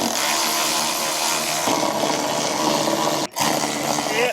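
A loud, close power tool whines and buzzes continuously while working bolts loose from a Jeep TJ fender, its pitch shifting partway through and cutting out briefly before resuming.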